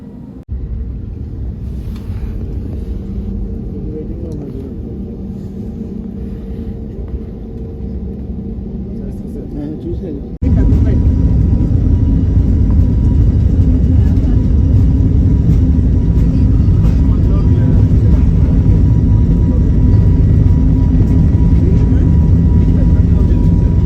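A jet airliner's engines rumble steadily while it waits on the runway before take-off, then swell into a louder, continuous roar as thrust comes up partway through.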